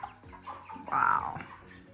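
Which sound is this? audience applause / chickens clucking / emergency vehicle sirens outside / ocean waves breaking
chickens clucking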